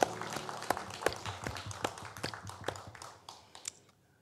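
Scattered hand claps from a church congregation during a worship service, sparse and uneven with individual claps standing out rather than a dense wave, fading toward the end.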